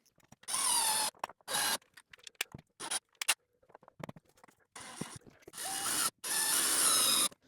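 A screwdriver drives screws into mounting brackets for motorized window shades, giving close, quiet ratcheting bursts broken by short pauses and small handling clicks.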